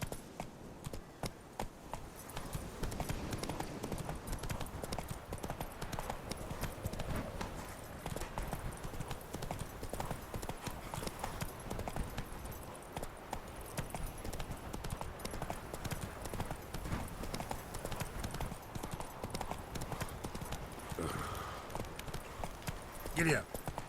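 Horse hooves clip-clop steadily throughout while a voice talks over them, the horse Roach trotting along in The Witcher 3 video game.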